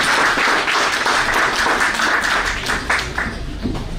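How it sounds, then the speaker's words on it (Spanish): A lecture audience gives a strong round of applause for a law speaker, Dr. Cristian Hernández, a loud, dense stretch of many hands clapping that holds steady and thins slightly near the end. "Pido un fuerte aplauso para el doctor Cristian Hernández"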